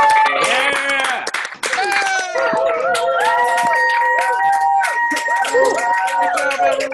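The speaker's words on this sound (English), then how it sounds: "we are going to give a round of applause for everyone" Online participants unmute at the close of a teen film festival, clapping and cheering together in a loud, overlapping mix of hand claps, whoops and excited voices from many separate microphones.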